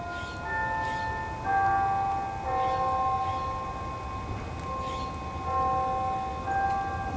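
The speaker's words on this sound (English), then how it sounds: "There are the mill bells going off." Town mill bells ring at noon, a steady series of clear, sustained metallic tones heard from a distance in the open air over a low outdoor rumble.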